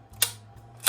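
SCCY CPX-2 pistol slide snapping back and locking open on the bench, two sharp metallic clicks close up, the second louder, over a low steady hum.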